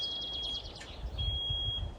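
Fuel pump on a digger beeping while filling, high electronic tones over a low mechanical rumble, first a rapid pulsing series and then a longer continuous beep.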